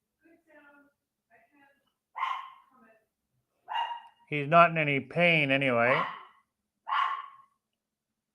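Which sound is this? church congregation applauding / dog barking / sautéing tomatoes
dog barking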